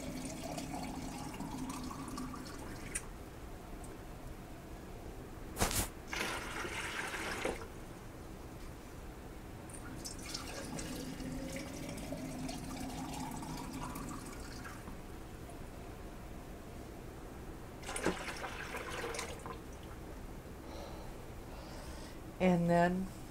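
Water poured in a steady stream into a container while mixing a brine for brown sugar-cured Canadian bacon, the filling tone rising as the vessel fills, with a sharp clatter near the end and a voice faintly present.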